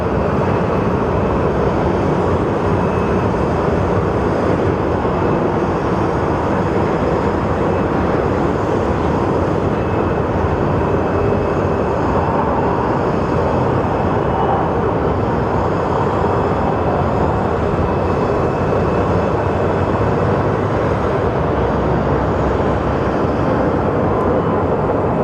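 Airliners departing Phoenix Sky Harbor airport, a loud sustained low jet roar that holds steady and unbroken throughout, with no voices.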